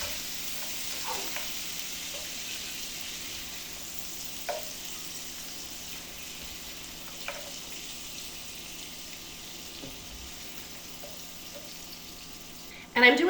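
Green beans sizzle gently in melted butter in a pan, a faint steady crackle broken by a few light clinks and a louder knock at the end.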